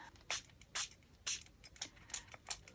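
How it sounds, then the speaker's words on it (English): Short hissing bursts from a spray paint can onto paper, several quick puffs in an uneven rhythm, close up and fairly soft. "I'm gonna get that same paper, so I'm gonna spray here."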